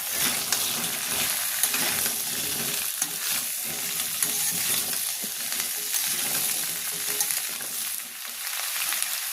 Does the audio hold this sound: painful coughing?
no